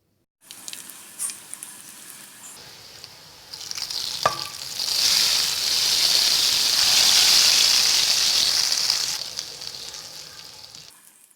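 Red chili tempering in hot oil for dhaba-style dal chana: a loud, close sizzle that swells after a sharp hit and holds steady before tapering off.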